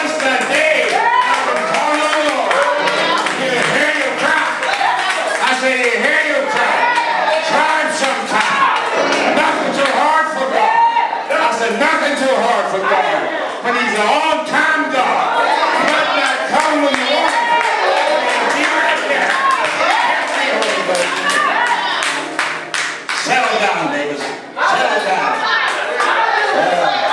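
Church congregation at a Baptist service claps and shouts loudly and continuously, a dense wall of voices and hand claps filling the room without pause.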